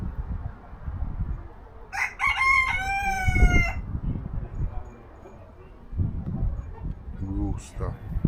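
A rooster crows once in a local chicken house, a loud nearby cock-a-doodle-doo rising over background chatter and clucking, followed later by a brief second call.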